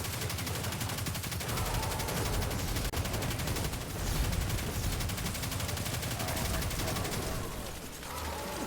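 Continuous rapid gunfire fills a Destiny firefight, with dense automatic shots running throughout at moderate loudness and occasional voices underneath.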